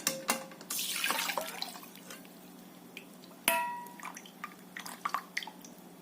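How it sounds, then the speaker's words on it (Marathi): Water drained off soaked kurdai, a dried wheat snack, in a home kitchen, with a trickle and pour in the opening seconds, a second splash midway, then scattered drips and small splashes as the water finishes running off. "आपण आता हे त्यातलं पाणी काढूया"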